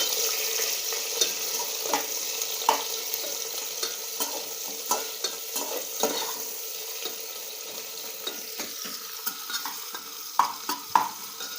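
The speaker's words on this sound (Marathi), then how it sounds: "ते टाकायचा ह्याच्यामध्ये लाल होईपर्यंत परतून घ्यायचा" Chopped onion fries in hot oil in a pan for home-style veg biryani, stirred until reddish. A steady close sizzle runs throughout with scattered scraping clicks from the stirring spoon, and no voices.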